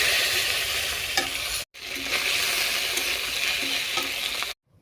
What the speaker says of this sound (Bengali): চচ্চড়িটা করার জন্য মাথাটা ভেজে নিচ্ছি